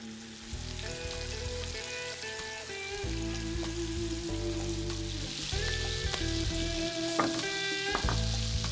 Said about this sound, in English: All I do is fry these zeppelin-shaped patties in olive oil over highish heat.